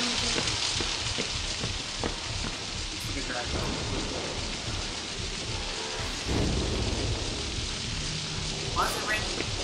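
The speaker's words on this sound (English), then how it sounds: "Why's it raining?" Heavy rain pours in the horror video game Outlast, a dense, continuous downpour hissing across surfaces with deep rumbles underneath, loud and steady, with voices speaking at moments over it.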